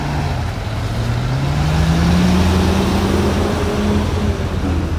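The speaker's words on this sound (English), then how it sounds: "Oh, traffic. Traffic," Street traffic rolls through Williamsburg, Brooklyn, with a loud, continuous vehicle drone and a passing engine rising and falling in pitch, steady and close the whole time without speech.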